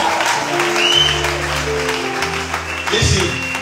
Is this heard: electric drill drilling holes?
no